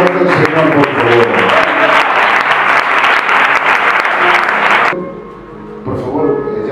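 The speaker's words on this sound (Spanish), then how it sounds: "Aplaude fuerte al Señor" A church congregation claps loudly and steadily for about five seconds, a dense wash of applause that then stops abruptly, leaving quieter room sound.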